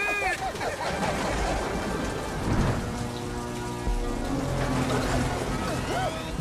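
Steady rain pours down with rumbling thunder rolling underneath, while voices speak over the storm.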